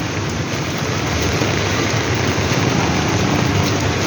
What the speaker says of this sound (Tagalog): Magdamag ang ulan.